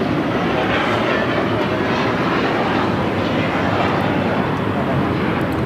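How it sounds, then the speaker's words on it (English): A seven-year-old JetBlue Airbus A321 takes off from LAX for Boston, giving a loud, continuous, broadband jet roar that stays steady throughout, with voices faintly mixed in. "This is Material Girl taking off to Boston, JetBlue 188 to 7-year-old A321."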